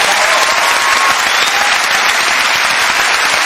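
A studio audience at a television talk show breaking into loud, dense applause with cheering, a sustained close wash of clapping from a large crowd filling the whole moment.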